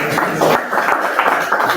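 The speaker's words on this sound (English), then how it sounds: "let's give them a hand of applause" Audience applause at a university class representatives' debate, a dense steady patter of many hands clapping through the short stretch, fairly close and even in level, with crowd murmur mixed in.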